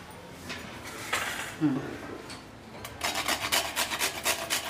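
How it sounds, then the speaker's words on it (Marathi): Nutmeg is rubbed against a small grater over sweet lentil filling, short raspy scraping strokes that start sparse and become a quick rhythmic series near the end, close and fairly clear. "आता याच्यामध्ये किसून टाक जरासं जायफळ"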